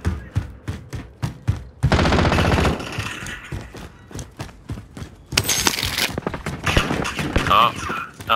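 Gunfire in a squad-based trios shooter video game: rapid separate shots in quick rhythm, then dense sustained bursts of automatic fire, loud and close, with voices talking over parts of it.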